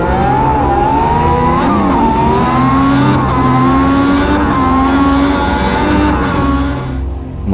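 A Ferrari 312 racing car drives the Monaco Historic Grand Prix street circuit, its engine screaming loud and close with rising and falling pitch through gear changes and brief dips, then fading slightly at the end.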